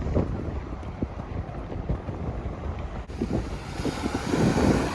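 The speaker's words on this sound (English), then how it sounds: "It's pretty windy." Strong wind buffets the microphone on a seaside promenade in Penzance, a continuous roaring rush with gusty swells growing louder toward the end.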